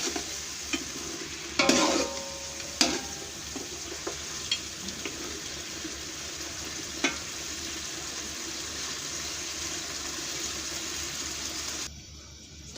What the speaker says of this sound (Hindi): इसको 2 से 4 मिनट हम अच्छे से भून लेंगे